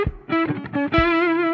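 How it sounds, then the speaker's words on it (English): A sustained distorted electric guitar chord, chorus pedal off, rings out with a gritty tone, struck a few times before holding steady for the last half second. "Let's turn the chorus pedal off and hear it."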